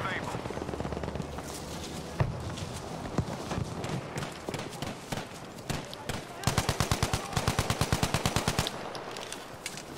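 Gunfire in Battlefield V on PS4: scattered single shots, then a long rapid burst of automatic fire, loud and close over a busy battlefield ambience.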